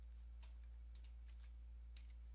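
Typing on a computer keyboard while entering commands to fix a boot-looping Acer PC, a few faint scattered keystrokes in short bursts over a strong low hum.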